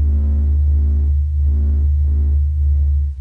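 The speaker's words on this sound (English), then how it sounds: "This is the sound of the sun singing." A sped-up recording of the sun's oscillating pressure waves forms a continuous low droning hum with layered tones and a slow, pulsing throb that swells and fades roughly every second.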